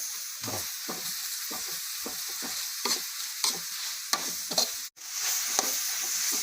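Eel dry-roasts in a hot pan with a constant close sizzle, punctuated by repeated scraping and tapping of a spatula stirring the pieces, plus one brief cutout near the end.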